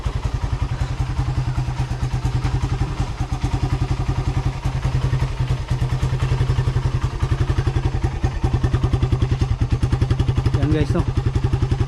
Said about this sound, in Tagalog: sumandar na siya guys, no. Isang buwan na hindi ko napandar ito.